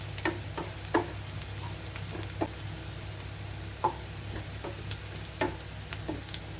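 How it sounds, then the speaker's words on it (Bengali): Onion fries with half a spoon of cumin and black cumin, a low steady sizzle broken by occasional scraping stirs of the spatula, nearby and moderately quiet. "পেঁয়াজের সাথে ভাজবো"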